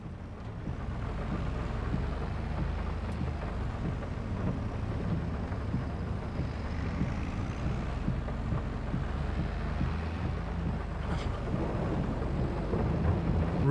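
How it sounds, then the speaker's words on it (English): Rain and rumbling thunder in a farming simulator video game, a steady dense wash of rainfall with low continuous rumble, moderately quiet and unbroken with no talking. "raining again."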